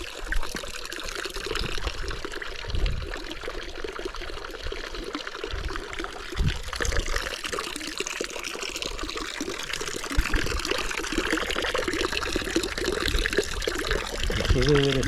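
Drinking water trickles and splashes continuously from a mountain spring fountain at Asiego in Asturias, nearby and moderately loud, with small irregular surges along the way.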